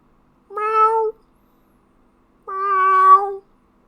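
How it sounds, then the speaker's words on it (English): A cat meows twice, each a clear, sustained, close call of about half a second to a second, separated by a short pause of silence. "And you hear a meow,"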